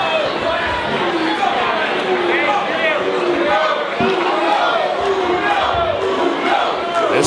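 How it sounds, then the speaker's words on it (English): Wrestling arena crowd chanting for Evil Uno of the Dark Order, a dense, steady roar of many voices carrying rhythmic chant patterns throughout. "This crowd chanting for Evil Uno"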